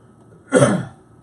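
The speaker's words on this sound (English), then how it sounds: "Hold on, I'm coughing." A single short cough, close and fairly loud, over a quiet background.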